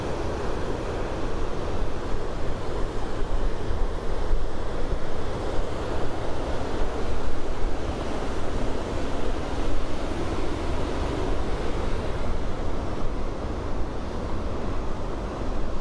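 Wind and surf roar steadily on a rocky coast at Punta del Hidalgo, Tenerife, a loud, unbroken wash of breaking waves mixed with heavy wind buffeting on the microphone.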